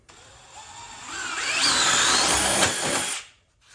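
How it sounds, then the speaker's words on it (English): A power drill with an 11/16 bit bores a handle hole in a charcuterie board, whining up as it cuts and then stopping abruptly after about three seconds. "this is a little 11/16 bit. I'm going to put through the handle hole here,"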